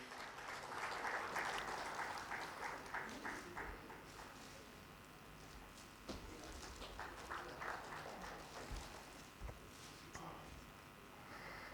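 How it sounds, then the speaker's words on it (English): An audience at an inauguration ceremony claps steadily for about twelve seconds, a dense, fairly quiet wash of hand claps that swells near the start and continues evenly to the end. "A big round of applause"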